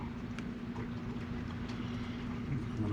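Trane heat pump outdoor unit starting up, a steady low mechanical hum with a constant drone tone and faint ticks, moderate and unchanging, with no talking.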